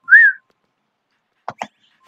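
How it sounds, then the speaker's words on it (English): A short rising whistle tone from the Nintendogs puppy game, played once alone, followed about a second later by two quick faint chirpy blips. "Touch the whistle icon to interact with her."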